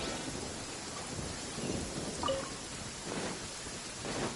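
Rain pours steadily in a lightning storm in Genshin Impact, a dense hiss with low rumbles of thunder swelling and fading under it, without any speech.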